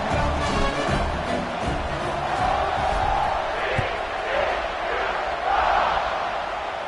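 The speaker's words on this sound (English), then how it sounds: "this crowd is buzzing after that last score." Stadium crowd in an American football video game, a steady broad buzz of many voices with faint swells of cheering throughout, carrying on loudly under a commentator's talk.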